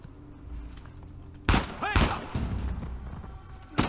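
Gunfire during a ballroom heist in the video game Uncharted 4: A Thief's End, several loud close bursts of shots and impacts over background game noise and voices.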